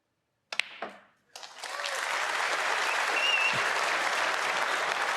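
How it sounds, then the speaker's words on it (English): Audience at a 2024 Masters snooker quarter-final applauding a century break: after a brief opening clap, steady broadband clapping builds and holds, filling the arena at a moderate level with no talk over it. "They're clapping the century."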